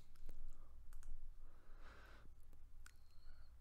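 Computer mouse clicks at a desk, a few faint, sharp, isolated ticks separated by quiet pauses.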